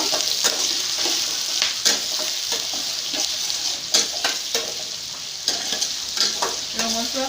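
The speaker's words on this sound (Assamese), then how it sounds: "এইখিনি মই অলপ দেৰি ভাজি লওঁ।" Onion, green chili and whole cumin sizzle and fry in a pan while being stirred, with steady crackling broken by repeated scraping stir strokes close by and no talk.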